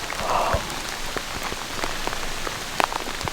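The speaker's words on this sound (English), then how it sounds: "It's still raining, but this is the lightest it's rained in the last hour and a half." Steady rain patters across the whole stretch, with scattered heavier drops and a couple of sharper splashes near the end, no voices.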